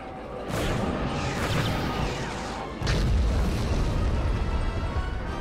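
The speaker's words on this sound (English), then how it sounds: "Bombers at the ready. Initiate bombing run." Heavy bombing-run explosions rumble in the Star Wars strategy game Thrawn's Revenge, two loud booming blasts that each roll into a sustained low roar, with no voices.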